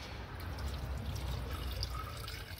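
Water pours steadily into a container to fill it, a continuous close splashing trickle at a Barnala factory outlet, with no talk over it.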